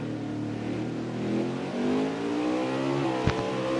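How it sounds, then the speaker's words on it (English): Race car in a racing video game at Sonoma, its engine revving up steadily with rising pitch as it powers out of a hairpin, loud and continuous with a brief click near the end. "Quickly gets on the gas,"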